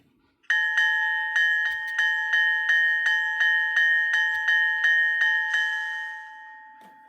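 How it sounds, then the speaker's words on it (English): The bell of a Bowser HO scale Alco RS3 model locomotive in Pennsylvania Keystone livery rings repeatedly in a steady, even rhythm, about fifteen strikes, close and clear, then its tone fades out. "The bell for the Pennsylvania Keystone"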